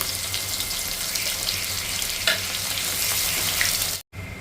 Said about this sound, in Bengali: পেঁয়াজগুলোকে আমি একটু লাল লাল করে ভেজে নেবো